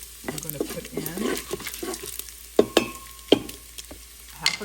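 Well-browned bacon crackles in a pan for taco bowls, a soft sizzle punctuated by a few sharp scrapes and knocks of a utensil, close by, with no one speaking.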